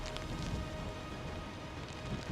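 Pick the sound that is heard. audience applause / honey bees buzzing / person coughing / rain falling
rain falling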